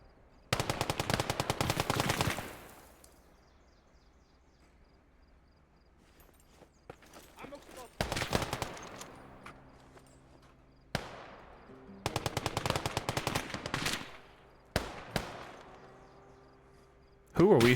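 Bursts of automatic gunfire in the video game Finnish Conquest, several sharp rapid volleys lasting a second or two each, separated by quiet gaps, with a low hum in between.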